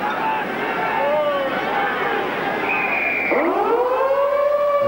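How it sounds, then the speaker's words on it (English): Stadium siren wails at the restart of a 1988 Rugby League World Cup match between New Zealand and Australia, a rising and falling tone over crowd hubbub, then a second surging blast. "The siren goes, and Lamb kicks deep to Shelford"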